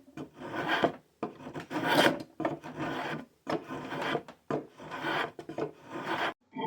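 Steel spokeshave blade pulled along a small wooden workpiece, making repeated rasping shaving strokes about once a second, close and loud, with brief pauses between passes.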